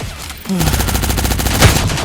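Gunfire from the shooter video game Cyber Hunter rattles as dense, continuous automatic bursts, loud and close throughout, with a heavier blast near the end.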